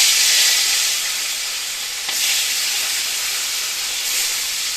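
Salted, turmeric-coated fish pieces fry in hot oil, giving a loud, steady, close hiss that swells slightly at a couple of moments.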